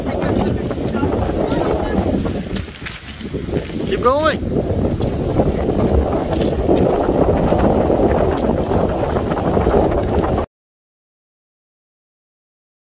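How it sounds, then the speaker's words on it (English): Strong wind at a Cape Cod beach roars and buffets the microphone in a dense, continuous rush for about ten seconds, with people briefly speaking under it before it cuts to silence. "Dude, it's so windy."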